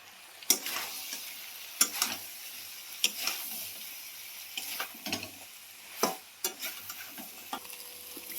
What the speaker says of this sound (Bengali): মশলাতে তেল ছেড়ে দিয়েছি, এবার দিয়ে দিলাম চানা ছোলাগুলো।